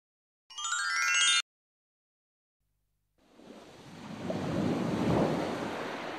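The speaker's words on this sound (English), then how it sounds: "Isn't the sea lovely?" Waves wash onto a beach, a soft surf building to a steady rushing swell after a brief bright chime and a moment of silence.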